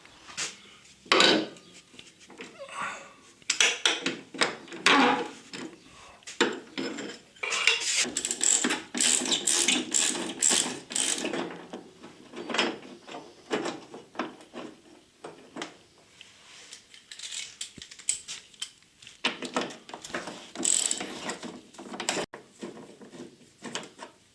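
Ratchet wrench loosening the bolts of an air-conditioning protective tube while removing a control arm on a Porsche 911 SC, with bursts of rapid clicking interspersed with metallic clanks and handling noise, close and moderately loud, no talking.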